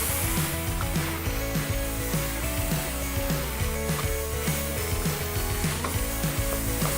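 Garlic and prawns fry in a pan for garlic sweet noodles, a steady sizzle running throughout beneath a rhythmic tonal backdrop.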